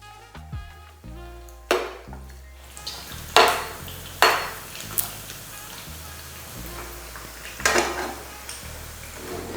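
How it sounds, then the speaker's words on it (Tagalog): Pork frying in its own rendered fat for pancit while being stirred, with loud scrapes and clanks of a utensil against the pan punctuating a soft background sizzle. "Dahan-dahan nating ipiprito itong pork gamit yung sarili niyong mantika hanggang sa mag-crispy lang yung outer part"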